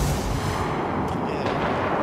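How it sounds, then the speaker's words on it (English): Heavy rolling explosions and artillery-like booms in a Ghost Recon Wildlands combat scene, a dense continuous roar throughout with brief sharper bursts, loud and close. "There's a lot of explosions."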